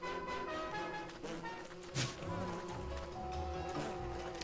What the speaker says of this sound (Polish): słyszę pszczoły